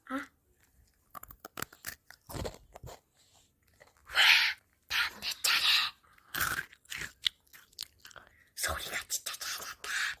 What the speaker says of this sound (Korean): 다음은 바삭바삭 코코볼